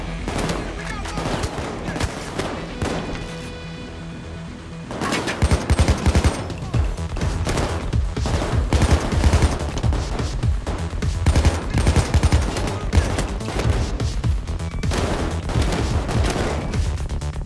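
Rapid bursts of gunfire during a bank heist in Payday 2, with loud, dense automatic shots that intensify after a short lull and keep going almost without pause. Brief voices come through here and there.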